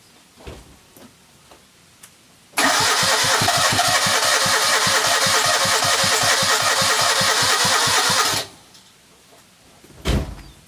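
A Citroën 2CV engine cranks loudly and rhythmically for about six seconds, chugging as if close to firing, then cuts out into quiet.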